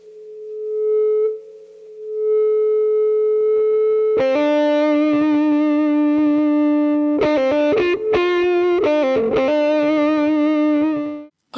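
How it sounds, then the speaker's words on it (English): Electric guitar played through a wah pedal parked in a fixed mid position, giving a cocked, nasal distorted tone; a sustained single note opens, then loud chords ring and are cut off in short muted breaks. "leave the wah in that mid position or cocked wah tone"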